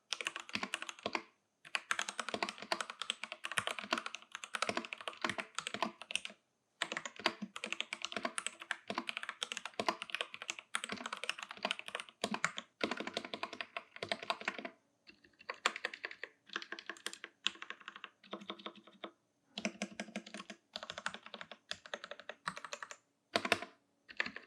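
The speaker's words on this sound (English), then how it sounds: "here's a quick typing test." Rapid typing on a Royal Kludge RK71 mechanical keyboard: close, crisp clatters of keystrokes in dense bursts, broken by short pauses, with no voices.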